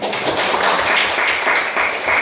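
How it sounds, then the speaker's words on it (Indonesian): A class at the close of a school lesson gives a short round of many hands clapping together, a full and even burst. "Kita tepuk tangan."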